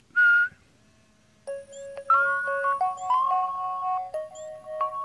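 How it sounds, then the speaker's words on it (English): A person whistles a short, bright note to set off a whistle-activated phone finder, and the device answers with a string of electronic chirping beeps and tones that ring out clearly in a quiet room. "you just whistle"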